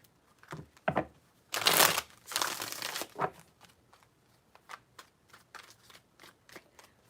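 Tarot cards shuffled by hand in close, crisp riffling bursts, two longer shuffles followed by a series of short soft flicks and taps, with no talking.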